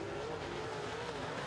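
Late model race cars roar together around a dirt track in a continuous loud engine drone, with no break across the short stretch.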